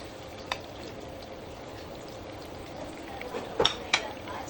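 Spices and ginger sauté in hot oil for ginataang tulingan, a fish stewed in coconut milk, making a soft continuous sizzle with a few louder clinks and stirring scrapes near the end.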